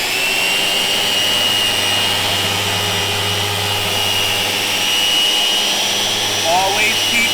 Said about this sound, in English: always start the sander on the material